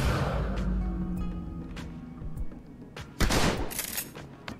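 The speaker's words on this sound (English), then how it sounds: "He just missed me with a shotgun. And he only hit me once with full auto." Video game gunfire from Shadowrun Hong Kong: repeated close gunshot bursts, a shotgun blast and full-auto fire crackling in clustered volleys, loud at first then with a sharp burst near the end, no talk.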